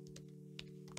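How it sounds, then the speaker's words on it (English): Several quick keystrokes on a MacBook keyboard, faint and close, tapped in a short irregular burst over a steady low electrical hum. "come on MacBook keyboard"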